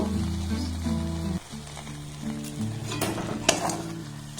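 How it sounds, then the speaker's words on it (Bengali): A spatula stirring and frying ingredients with egg in a pan over low gas flame, steady sizzle under scraping strokes and a few metallic knocks against the pan, with a low steady hum in the background. "আবারও সমস্ত উপকরণ খুব ভালোভাবে আমি নাড়াচাড়া করে কষে নেব"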